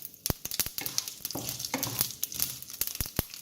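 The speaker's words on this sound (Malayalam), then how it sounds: "അപ്പം നമ്മുടെ കടുക് പൊട്ടി തുടങ്ങിയിട്ടുണ്ട്. അതിലോട്ട് ഞാൻ എടുത്തു വെച്ചിരിക്കുന്ന ചുവന്ന മുളക് ഇട്ട് കൊടുക്കുവാണ്." Mustard seeds and dried red chilies crackle in hot oil for a Kerala cabbage thoran, a steady close sizzle broken by sharp, irregular pops from the seeds, with no talking.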